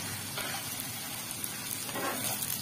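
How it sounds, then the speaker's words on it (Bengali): Chopped medium onions frying in hot oil over a medium gas flame, with a steady broadband sizzle throughout and occasional soft stirring scrapes, close and continuous. "গ্যাসটাকে আমরা মিডিয়াম আঁচে দিয়ে গোল্ডেন করে পেঁয়াজটাকে ভালো করে ভেজে নেব।"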